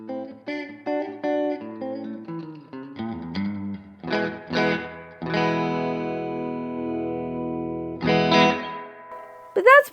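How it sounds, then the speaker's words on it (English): An electric guitar through a slapback delay and spring reverb plays a few short plucked phrases and then sustained chords, the notes trailing off in echoing repeats, with a final pick scrape at the end. "This time I'm using a slapbacky kind of delay and a spring reverb"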